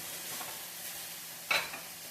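Peas cooking on a stove and boiling over give a steady close hiss and sizzle, with a brief louder splutter near the end.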